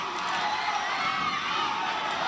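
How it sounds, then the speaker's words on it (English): Basketball crowd of Wellington supporters at an NZNBL game against the Nelson Giants, a steady, dense roar of cheering and shouting that fills the arena continuously without a break. "So the crowd get noisy."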